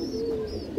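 A large, strong Sapchila female pigeon from an old bloodline coos in a low, steady, rolling murmur, close and fairly loud, with a brief swell near the end. No one speaks.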